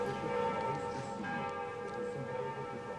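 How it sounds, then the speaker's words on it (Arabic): The large bells of Notre-Dame Cathedral in Paris ring steadily, their deep, sustained tones overlapping and humming continuously with no voices. "أعجبني صوت أجراس كاتدرائية نوتردام"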